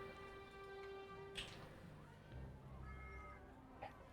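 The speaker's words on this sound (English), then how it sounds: "That's my cat." A pet cat meows close by, one drawn-out cry at first and then softer, shorter calls over a quiet room.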